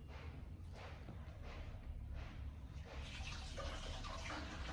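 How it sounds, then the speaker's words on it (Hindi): Water runs and splashes steadily at a sink as a child rinses the mouth after a loose tooth came out, a continuous close gush with a few swishing surges and no clear talk. "अच्छे से पानी से कुल्ला करो"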